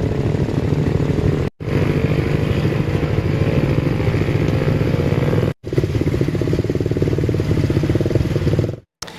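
Motorcycles of holiday travellers streaming along a busy arterial road, a loud continuous engine drone and rumble from close by, steady throughout with two brief cut-outs.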